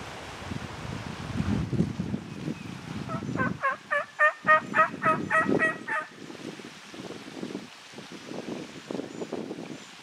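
A turkey call chirp answered by a wild turkey gobbling outdoors on an Indiana spring hunt, one loud rapid rattling gobble in the middle, with wind noise and faint rustling around it.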